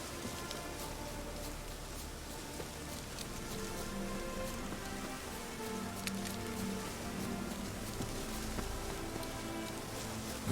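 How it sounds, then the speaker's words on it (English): Steady rain falling in the video game The Witcher 3: Wild Hunt, a soft, even wash of patter on surfaces that runs without pause, fairly quiet, with no voices. "Looks like rain."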